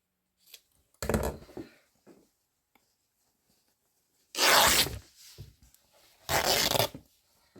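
Paper or cardboard is torn by hand during craft work on a baby journal, heard as three close, rasping rips separated by quiet pauses, with small handling noises between them.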